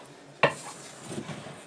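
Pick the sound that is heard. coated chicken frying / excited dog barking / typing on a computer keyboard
coated chicken frying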